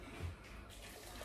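Boiling water just poured from a kettle streams into a pan of potatoes, a steady soft watery rush throughout the short moment, close and fairly quiet, with no talk.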